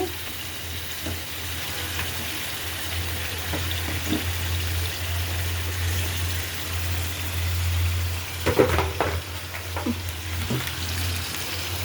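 Mutton pieces fry with onions in oil in a pot for biryani, a steady close sizzle with low bubbling and occasional clinks and stirring scrapes, continuous throughout with no talk.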